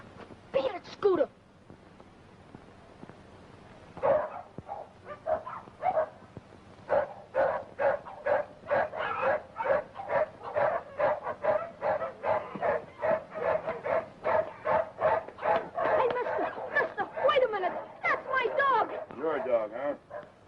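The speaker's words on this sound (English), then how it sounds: "Your dog, huh?" A dog in a 1930s film scene yips, barks and whimpers in a rapid, insistent series of short, near cries, with people talking over and around it.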